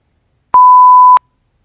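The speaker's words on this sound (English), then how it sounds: "how to bleep the swear word over a voiceover" A single censor bleep masking a swear word in a voiceover edited in CapCut: a steady, loud pure tone lasting about two-thirds of a second, with sharp clicks at its start and end and silence on either side.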